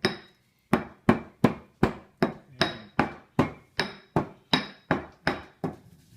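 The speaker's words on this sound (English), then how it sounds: "First, grind up some of the coriander." Coriander is ground by hand in a mortar with a pestle, heard as about fifteen evenly spaced sharp pounding strikes, close and loud, with short silences between them.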